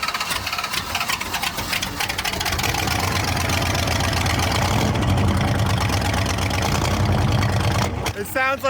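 An old carbureted monster truck engine idles roughly after a cold start, a loud, lumpy low rumble with uneven pulses that holds steady for several seconds before fading near the end.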